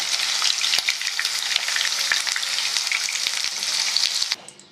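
Chicken 65 pieces fry crisp in hot oil with a loud, steady, dense sizzle and scattered crackles, then the noise drops away abruptly near the end as the pieces are lifted out.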